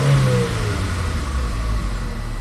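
A Chevrolet HHR SS Turbo engine revs up close by, a loud mid-pitched motor rising in pitch at the start and then holding a steady elevated drone, with no voices.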